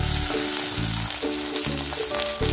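Apakova leaves hiss and sizzle as they sauté in hot oil, a steady frying crackle broken by soft scraping stirs at a regular pace.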